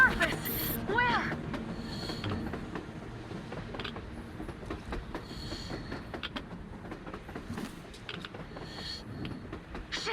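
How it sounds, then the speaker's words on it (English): A train running on the surface in the video game Metro Exodus, with rumbling, clattering rail noise and creaking mechanisms at moderate level, while voices speak over it. "A train! A damn train on the surface!"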